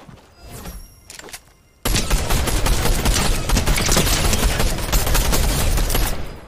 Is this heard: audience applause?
no